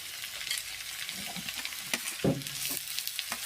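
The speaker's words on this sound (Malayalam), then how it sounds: "നാല് സവാളയാണ് എടുത്തേക്കുന്നത് നല്ലപോലെ ഇളക്കി കൊടുക്കാം" Thinly sliced onions frying in a pan for chicken peratt, a steady close sizzle broken by a few scraping stirs and one louder clatter of the spoon, with no talking.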